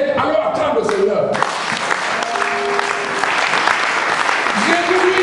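A church congregation bursts into loud, sustained applause for the Lord during a sermon, a dense close clatter of clapping that follows a brief voice and continues with voices heard over it.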